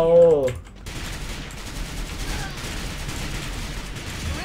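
Rapid bursts of automatic gunfire from an AK47 Unicorn rifle in the shooter game Break Out, rattling continuously after a brief voice at the start.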